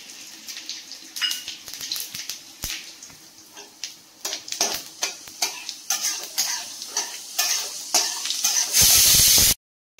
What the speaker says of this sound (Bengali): আর ধনিয়াটা আমি ফোড়নে দেব।